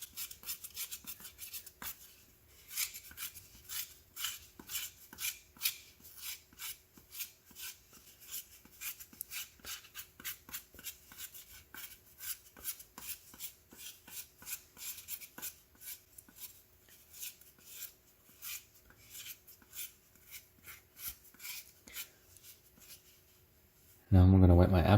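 Wax is scraped off an apple's skin in short, quiet rasping strokes that repeat steadily at close range, ending with a sudden loud knock.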